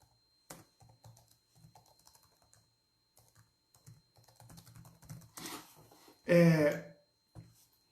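Someone types on a computer keyboard in short bursts of soft, close clicking, with one loud burst of noise near the end and speech mixed in.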